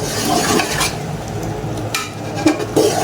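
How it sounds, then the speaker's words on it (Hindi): Meat sautéing in a pan with coriander powder, a close scraping stir and sizzle with occasional spoon clinks against the metal, fairly loud and unbroken. "गोश्त को अच्छे तरीके से भून लेंगे"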